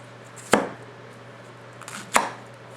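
Two crisp knife strokes from a Tetsuhiro hand-hammered White #1 nakiri cut through onions on a cutting board, each a sharp thunk about a second and a half apart, close and clear with a low steady hum behind.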